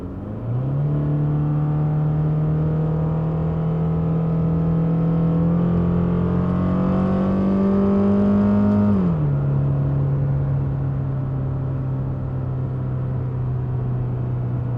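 A Genesis G70 sports car engine revs and accelerates steadily, its pitch rising before dropping sharply at a gear shift, then continuing to pull with a strong hum.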